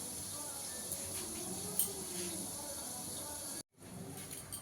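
Potatoes frying in oil in a covered pan over low heat, a soft, even hiss that holds steady for several seconds, quiet and close with no voices.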